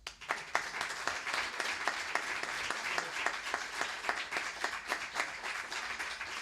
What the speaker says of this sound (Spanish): yo os pido que le demos un aplauso